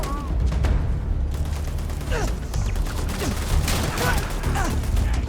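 Dense, continuous gunfire with explosive bullets in the space game Starfield rattles and booms without pause, loud and close, with voices talking over the barrage.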